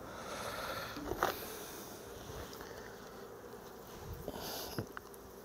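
Honeybees crawl and buzz on a hive frame, a faint, low hum with a few brief, closer buzzes of individual bees passing the microphone.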